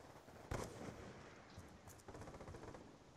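Gunfire in the video game Black Ops 2, a sharp loud shot followed by scattered, faint rapid bursts in the background, heard at very low level.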